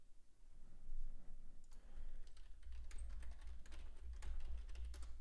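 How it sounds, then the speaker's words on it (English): Fast, irregular clicking of keys on a computer keyboard during a live day-trading stream, faint and continuous with bursts of keystrokes over a low background hum, no voices. "If you do hear typing, you're not crazy."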